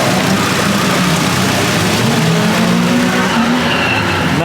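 A car drifting, its tires squealing continuously with rising and falling pitch over a loud, steady engine roar throughout, close and sustained without pause.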